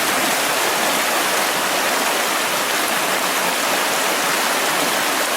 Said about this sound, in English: Iron Mike gets ready to cross the creek.